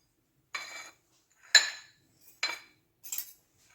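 Peeled garlic cloves crushed with a metal utensil, four separate scraping, clinking strikes at roughly one-second intervals, close and fairly crisp, with silence between them.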